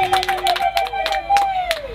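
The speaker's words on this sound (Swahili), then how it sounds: "Tuketi tukipiga makofi." Audience applause as people take their seats at a girls' secondary school graduation ceremony in Kahama, with rhythmic clapping heard close and loud beneath a sustained tonal sound and voices.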